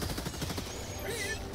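Rapid automatic gunfire in the video game Helldivers 2, a dense burst of shots filling a short moment alongside faint game sounds.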